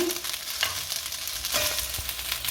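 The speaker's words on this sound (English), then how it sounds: "You keep turning it because you don't want to stick to the pot because of the high heat, so just keep turning it for just a few minutes" Spicy vegetable fried rice sizzling steadily in a pot over high heat, with scraping stirring strokes heard close and continuous, no voices.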